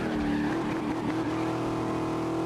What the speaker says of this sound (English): the fire from the exhaust sounds louder. The engine might be kinda louder too.